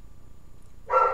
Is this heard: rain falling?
no